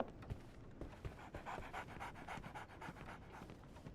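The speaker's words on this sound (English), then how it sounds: "So, Barnes has a dog now." A dog panting in the Sherlock Holmes: The Awakened video game, with quick, steady rhythmic breaths heard close and alone for several seconds at a soft level.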